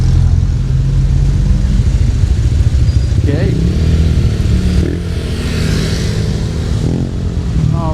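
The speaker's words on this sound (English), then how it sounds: "We have to hear traffic." Street traffic in Angeles City, Philippines, with motorcycle and car engines rumbling and revving nearby in a steady loud wash, passing vehicles swelling and fading, and a brief spoken word over it.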